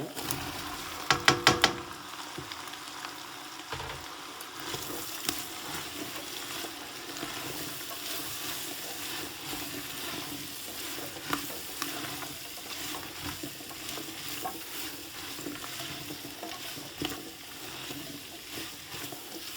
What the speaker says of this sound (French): j'ajoute maintenant les poivrons